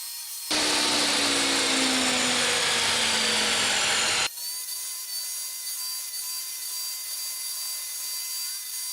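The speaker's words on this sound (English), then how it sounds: "Cut those dados in there" A power tool cuts dados into a wood part for an adjustable napkin holder, a loud, steady whining cut lasting about four seconds, then stopping abruptly and leaving a quiet room tone.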